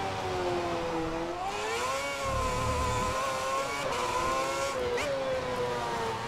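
A Ferrari F10 race car in F1 2010 screams through its gears, the high-pitched engine note rising and dipping with shifts, loud and sustained with no talk.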